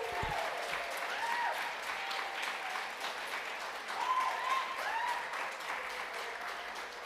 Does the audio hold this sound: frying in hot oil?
no